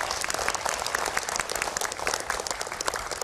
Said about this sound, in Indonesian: Kita berikan tepuk tangan hadirin dan pemirsa.